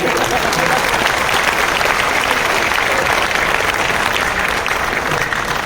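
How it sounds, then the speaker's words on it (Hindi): Seminar audience at an RCM business event clapping in a steady, dense burst that stays loud and even throughout, with no speech over it. "एक बार तो ताली बनती है इस खेल के लिए"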